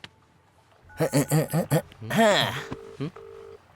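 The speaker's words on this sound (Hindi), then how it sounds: "ए, रिंग जा रही है।" A phone's electronic ring plays a quick series of tones, then short steady beeps follow, loud and close, with no one talking.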